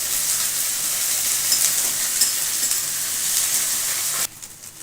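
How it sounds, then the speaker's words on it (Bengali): Onion and garlic frying in a wok give a steady, close sizzle with faint stirring, which stops abruptly near the end, leaving quieter background. "পেঁয়াজ রসুন একটু ভাজা ভাজা করবো"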